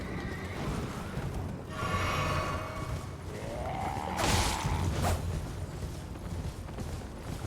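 A horse in Elden Ring whinnies in a drawn-out, rising and falling cry amid hoof clatter and combat whooshes, fairly close and loud.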